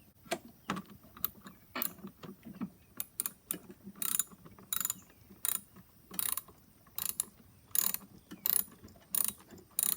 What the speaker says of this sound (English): Once you use that socket wrench to remove the nut, you can just use your hands after a while.